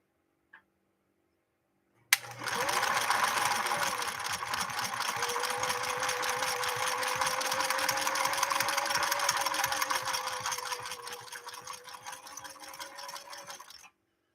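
A 1968 Singer Model 626 Touch sewing machine stitching polyester, running steadily for about twelve seconds with a fast, even mechanical clatter and a faint rising whine, close and alone after a sharp start click.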